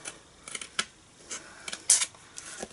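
Scissors snip through leftover paper scraps during a card-making craft session, a series of short, crisp cuts in uneven rhythm, close and fairly quiet, with no talking.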